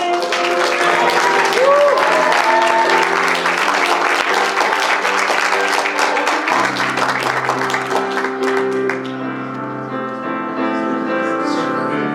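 Audience applause for a graduate at a high school gown and yearbook ceremony, loud steady clapping mixed with prominent background music throughout, the crowd sound thinning toward the end.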